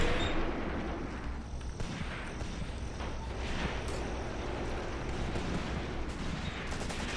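Sustained barrage of gunfire and grenade blasts in the WW2 tactics game Graviteam Tactics: Mius Front, dense crackling shots layered with booming explosions, loud and continuous with no speech.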